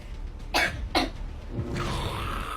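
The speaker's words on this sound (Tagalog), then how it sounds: "tas umubo ka, oh" Two short, sharp coughs close together, followed by a soft breathy throat sound against faint background noise.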